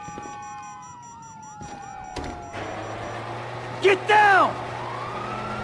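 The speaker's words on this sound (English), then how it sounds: "you hear that? Sirens! Fuck the cops!" Wailing police sirens rise and fall in the distance in GTA 5 gameplay, with a loud shout and a chaotic game soundscape over a steady low hum.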